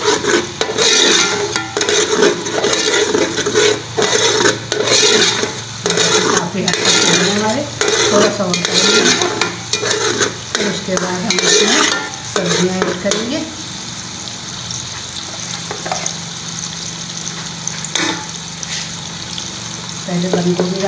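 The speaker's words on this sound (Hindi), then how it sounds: "तोड़ लेते हैं इनको अंडों को और तोड़ते भी जाते हैं" Eggs are broken up and stirred as they fry in a pan for egg fried rice, with loud rhythmic scraping and rasping strokes of a utensil over a steady sizzle, easing into a softer sizzle with scattered clinks near the end.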